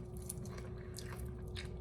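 Homemade granola clusters with nuts, cinnamon and dried cranberries are chewed close up, making quiet, continuous crunching and biting sounds with no voices.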